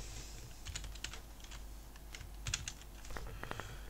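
Code being typed on a computer keyboard: a steady run of light, quick key clicks in small clusters, close and fairly quiet, with no talking.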